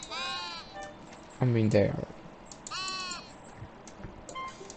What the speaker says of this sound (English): I really like these sheep that fly